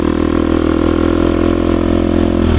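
A KTM 350 XC-F Factory Edition dirt bike, a 2023 model, holds a steady, loud idle close by, a throbbing buzzy drone with a faint clattery edge and no voices.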